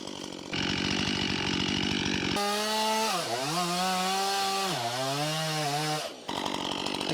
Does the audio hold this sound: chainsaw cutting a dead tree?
yes